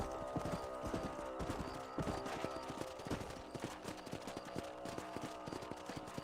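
Horse hooves clip-clopping in Red Dead Redemption on Nintendo Switch, a quick, regular trotting rhythm of crisp hoof strikes on hard ground, close and fairly quiet, with no speech.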